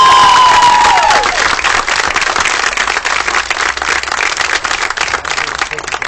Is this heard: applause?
yes